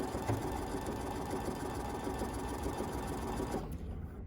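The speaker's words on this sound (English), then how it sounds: "we're going to take our fabric to our sewing machine and we're going to sew down each side" A sewing machine stitches down the side of a fabric face mask, whirring in a steady, close, moderately quiet mechanical run that stops abruptly near the end.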